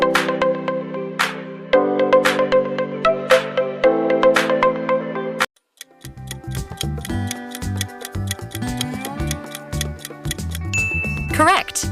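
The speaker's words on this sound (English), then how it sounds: "Correct. That's Honor." An Honor mobile phone ringtone plays loudly: a bright, chiming melody repeats in short phrases, then after a brief break gives way to a busier, ticking electronic tune.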